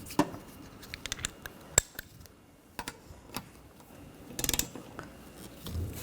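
Front strut nuts being tightened by hand tool on a 2013-2019 Ford Escape, with sparse clicking ratchet strokes and short metallic taps, a quick burst of rapid clicks near the end, fairly close and quiet with no talk.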